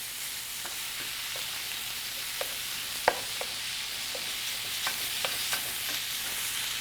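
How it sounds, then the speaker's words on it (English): Steady sizzling of ground beef browning in a pan, with occasional scrapes and clicks of a utensil stirring, no voices. "So we're grilling up, frying off our ground beef."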